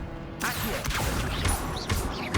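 An Incendio fire spell cast in Hogwarts Legacy, heard as a sudden loud whooshing burst followed by further crackling flares and swishes, close and intense, with no talk over it.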